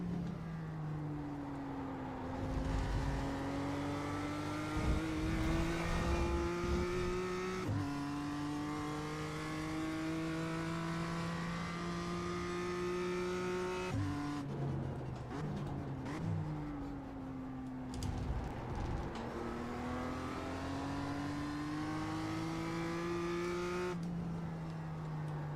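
BMW M2 race car engine in iRacing at Okayama, revving hard through the gears with repeated rising pitch sweeps, sharp drops at upshifts and lifts for braking, loud and continuous throughout.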